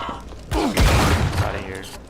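A super shotgun blasts in the dark fantasy shooter Wrath: Aeon of Ruin, one heavy close boom with a rumbling tail and game noise under it.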